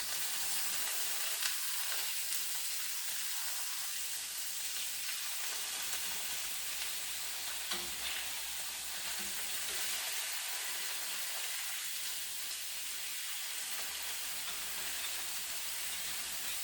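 Stuffed tofu pan-fries in hot oil, a steady close hiss and crackle of sizzling that holds evenly throughout, with no talking.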